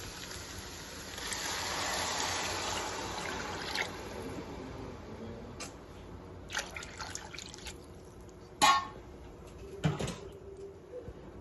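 Water is poured into a cooking pot for khichdi rice, a soft trickling stream for a few seconds, then quiet clinks and drips of kitchen handling, faint and close.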